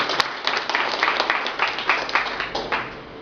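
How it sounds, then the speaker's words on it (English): Audience applauds in a lecture hall, a short burst of many hands clapping, dense and irregular, fading slightly toward the end. "I give a big clap."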